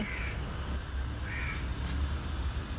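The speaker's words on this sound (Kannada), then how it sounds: "ಕಾಗೆಗಳು ಸುಮಾರು ಬಂದಿದೆ" Crows caw a few times over a steady low rumble of background noise, the calls moderately loud and spaced out.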